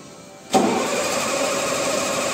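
An M35A2 6x6 military truck engine cold-starts after a brief quiet, then settles into a steady, loud, rough diesel running sound close by.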